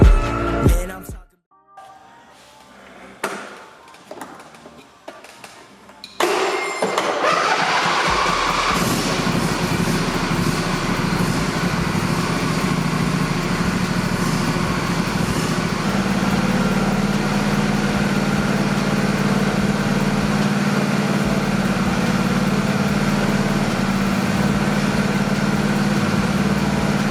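Honda fitted with a swapped all-motor F20B engine idles steadily after a few short knocks and handling sounds, its even mechanical hum holding alone for about twenty seconds.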